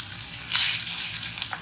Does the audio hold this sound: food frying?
yes